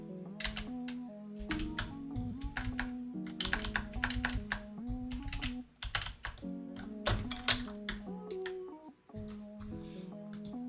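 Fast, uneven typing on a computer keyboard, close and steady, with dense clusters of key taps and brief pauses, no voices over it.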